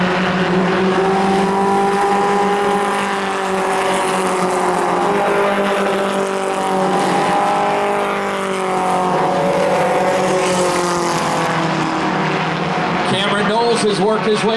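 Race cars in a 4-cylinder pro stock championship feature roar loudly and continuously around the track, engine tones rising and falling as they pass, with a brief squeal near the end and an announcer talking over them.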